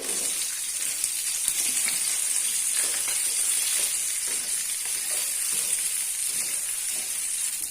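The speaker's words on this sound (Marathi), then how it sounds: "ही चिरलेली वांगी हे पॅनमध्ये मी तेल घेतलाय त्यामध्ये मी परतून घेते" Chopped eggplant sizzling in hot oil in a pan, a steady bright hiss of frying that continues evenly, with faint stirring scrapes underneath.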